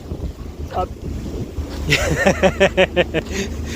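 Sailboat pushed by an outboard motor through a rough swell off Lizard Point, with wind buffeting the microphone, water slapping the hull and a rhythmic series of loud surging pulses from the straining motor in the second half.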